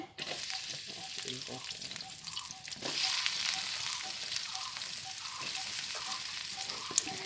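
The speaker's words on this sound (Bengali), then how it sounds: "তেল দিয়ে দিলাম পিঁয়াজটা আগে ভেজে নেব এই পিঁয়াজ দিয়ে দিচ্ছে" Sliced onions frying in hot oil for haleem give a steady close sizzle, with occasional stirring clatter and no talking.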